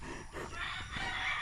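Chickens cluck and call close by against a busy outdoor background, with no one speaking.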